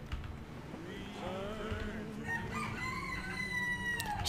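A rooster crows in Mafia 2. Two drawn-out crowing calls sound over a low ambient rumble, and the second call is clearer and rises in pitch.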